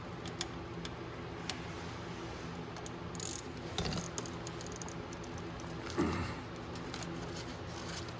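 A small ratchet with a 10 mm socket works at a brake bolt on a Venom 125cc mini jeep, giving faint, quiet clicking and a few metallic clanks over a low background hum, with no talking.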